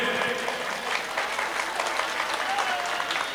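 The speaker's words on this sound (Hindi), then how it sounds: "तालियां कमजोर हैं।" Sustained applause from a mushaira crowd in Kamthee, many hands clapping together in a thick, steady roar that stays loud and unbroken from start to finish.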